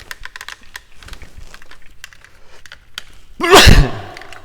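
A single sharp sneeze bursts out close and loud in a woodworking shop, following a stretch of light tapping and clicking sounds.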